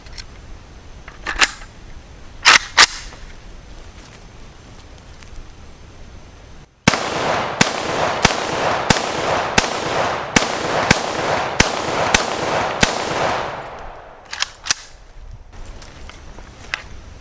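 A Romanian WASR RH-10 AK-47 rifle fires full metal jacket rounds from a P-mag in a rapid string of about a dozen loud, sharp reports, each with a short ringing tail, after a few faint clicks and handling sounds.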